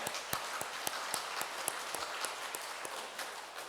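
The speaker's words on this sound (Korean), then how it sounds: "하나님께 감사의 박수를 드리길 원합니다" A church congregation claps in thanks to God during a Korean worship service: a steady, crowded patter of hands with a few sharper claps standing out, moderately loud and with no voices.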